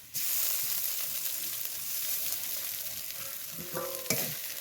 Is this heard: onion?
yes